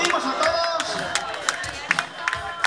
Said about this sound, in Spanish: Aplaudimos a todos.